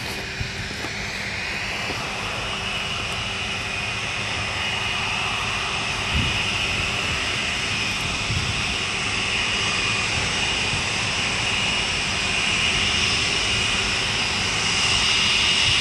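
A Lockheed TriStar jet near the runway at RAF Brize Norton, a loud continuous engine roar with a high whine, steady and slowly swelling throughout, heard from close by outdoors.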